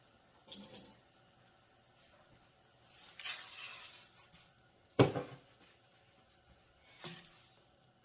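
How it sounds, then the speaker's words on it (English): Short bursts of splashing water separated by quiet gaps, one sharper clunk of a pot midway, nearby in a kitchen. "we're going to add 1 2/3 cup of water"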